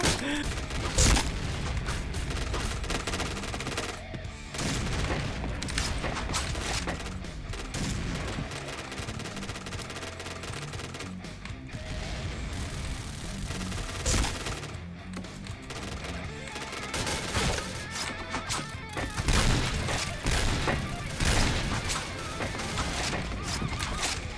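Gunfire and grenade explosions in a team shooter video game: dense, rapid bursts of shots and booming blasts crowd together almost nonstop at fairly low volume.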